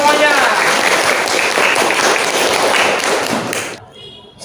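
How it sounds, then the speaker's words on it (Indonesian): A classroom of students applauding together, dense loud clapping filling most of the moment before cutting off abruptly near the end. "tepuk tangan untuk kita semuanya"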